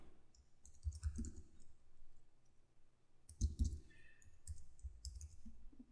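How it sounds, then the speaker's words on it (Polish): Clicky key presses on an Apple Mac keyboard attached to a PC while coding, arriving in short irregular bursts of taps with quiet gaps between them, close and fairly soft. "mam klawiaturę od Maca w moim PC-cie"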